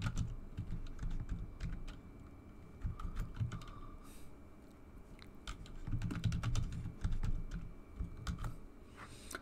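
A password being typed on a computer keyboard in an office setup, steady quiet key clicks in irregular bursts with short pauses, close and soft, no voices.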